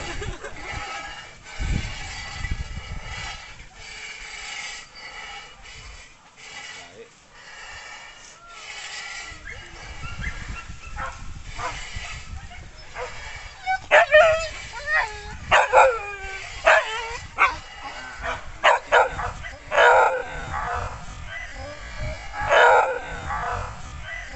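Hunting dogs bark, yip and whimper during a wild boar hunt, with bursts of excited barking growing denser in the second half, partly overlapping with people talking nearby.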